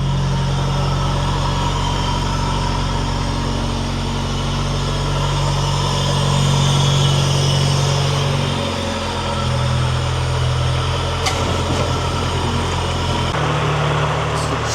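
Supercharged Honda B18C engine during its first test run after cylinder head installation, running steadily and loudly up close with a low drone that shifts slightly partway through, no talking.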